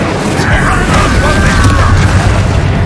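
Incendio fire spell blast cast during a combat fight in Hogwarts Legacy, a loud, continuous roaring burst of rumbling fire and whooshing energy sustained for about three seconds, heavy low-end boom with a swirling crackle on top.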